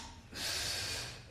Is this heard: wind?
no